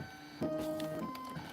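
An embroidery machine stitching thread on a snowman-arms pillow design gives a close, continuous mechanical whir with a steady tonal drone and a slight bump in level partway through.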